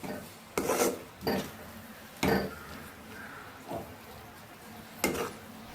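A spoon scrapes and rasps through thickening semolina upma in a pan, several distinct strokes at irregular intervals, close and fairly loud with soft rubbing between them.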